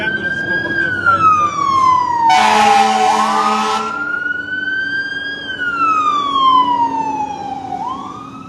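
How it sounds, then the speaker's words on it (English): Loud sirens of an ambulance and a fire truck wail close by, sweeping down and back up in pitch, with a blaring air horn cutting in for about a second midway. "Let the ambulance go, but the fire"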